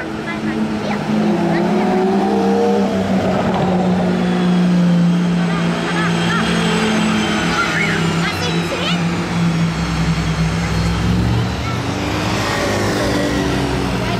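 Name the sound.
convoy of Aston Martin hypercars driving in Monaco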